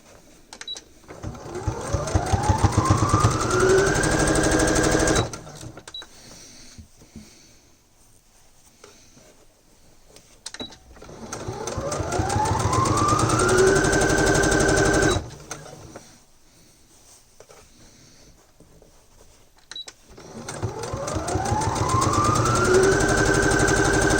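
Sewing machine stitching fabric under the presser foot in bursts of about five seconds, each run ramping up in speed with a whirring hum, separated by quiet pauses while the fabric is repositioned.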